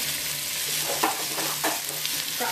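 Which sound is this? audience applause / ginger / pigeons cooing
ginger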